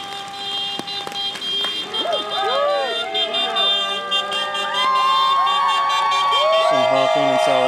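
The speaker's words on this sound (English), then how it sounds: "Some honking in solidarity." Car horns honk in solidarity at a protest blockading a weapons manufacturer in Plymouth, Minnesota, in heavy rain, several horn tones overlapping amid a wailing siren-like sweep and loud crowd noise.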